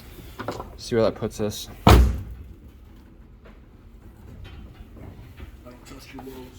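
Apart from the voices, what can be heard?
car door closing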